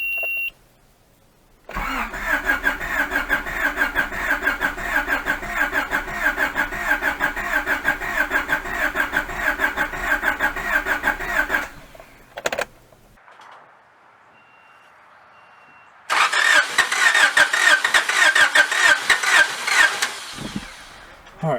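A Honda Prelude engine cranks and fires on starting fluid, running in a rough, pulsing idle for about ten seconds before dying, then restarting and running unevenly again, loud and close with faint talk.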